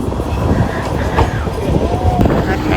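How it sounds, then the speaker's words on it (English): Steady rumble and rattle of a Manchester Metrolink tram on the Eccles line heard from inside, with rhythmic wheel clatter and a faint rising squeal near the end. "So I just realised I got on the wrong tram."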